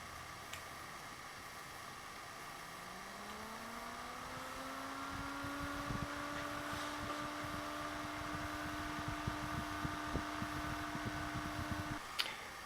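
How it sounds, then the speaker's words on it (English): A 92 x 15 mm computer fan, mounted on an isolation pad between frame and fan, spins up with a whine that rises steadily in pitch and then holds a constant hum, with faint ticks underneath. "we've mounted our 92 by 15 millimeter fan using an isolation pad between the frame and the fan"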